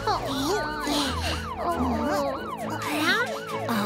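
A cartoon ambulance siren wails in repeated rising and falling sweeps, loud and close, layered over bouncy children's-show music in a rescue-vehicle song.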